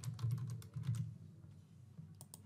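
Quick, close keystrokes on a laptop keyboard tap out a short Instagram caption in a soft rapid run, then trail off into a few scattered clicks.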